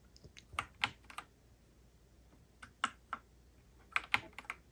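Keystrokes on a Whatgeek Kebohub EE01 mechanical keyboard come in short clustered bursts of crisp clicks separated by quiet pauses, close and fairly soft.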